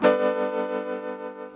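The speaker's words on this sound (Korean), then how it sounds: "소리 좋다. 건반 소리." A single sustained virtual-instrument keyboard chord rings out clearly, with a soft wavering shimmer as it slowly fades over a second and a half.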